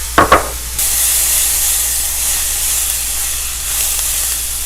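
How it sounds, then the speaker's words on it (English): Garlic hits a hot pan of Spanish-style rice: a couple of quick clicks, then a sudden loud, steady hiss of sizzling that carries on to the end. "the last thing we're going to be adding is our garlic"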